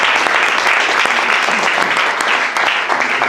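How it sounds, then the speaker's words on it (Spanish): Sustained applause from a church congregation, steady and dense throughout, with a faint voice blending in beneath the clapping. "Denle un aplauso al Rey."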